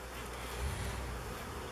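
Honey bees drone in a low, continuous hum around an open hive during a colony split, fairly close and unbroken for a moment.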